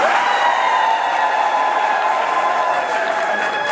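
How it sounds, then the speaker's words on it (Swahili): Audience at a public gathering in Mbeya, Tanzania, clapping for themselves in a dense, steady wash of applause that holds at an even level throughout. "jipigie makofi"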